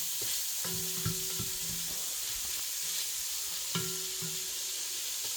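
Onions, garlic and chilli sizzle in a pan for pork adobo, a constant hiss of frying punctuated by scraping stirs and a few utensil taps, close and fairly quiet, with no talking.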